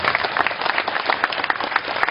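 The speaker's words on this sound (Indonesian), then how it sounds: "Tepuk tangan sekali lagi untuk Gus Yusuf." A packed evening gathering applauds Gus Yusuf at a Mocopat Syafaat event, continuous loud crowd clapping with a slight rhythmic pulse running underneath.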